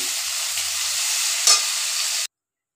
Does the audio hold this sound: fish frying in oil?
yes